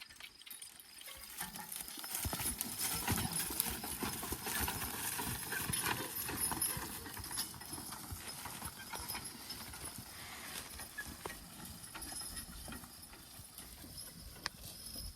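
Draft horses' hooves clip-clop steadily on a hard path or road edge at a walking pace, moderately close, with faint harness jangling and no talk.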